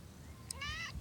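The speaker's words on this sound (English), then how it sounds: "Okay, that's Abigail, my cat." A pet cat gives a single short, fairly quiet meow indoors over a soft background hum.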